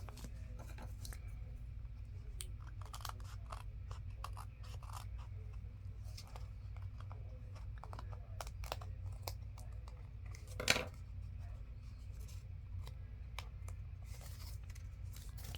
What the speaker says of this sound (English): And I just cut to make sure everything is even wherever I have to trim.